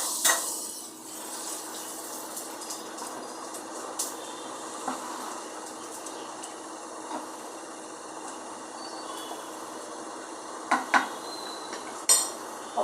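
A hot tempering of oil, mustard seeds, cumin, red chilli and curry leaves is tipped into bottle gourd batter and stirred, giving a soft, steady hiss with scattered spoon-on-bowl clinks that grow sharper toward the end.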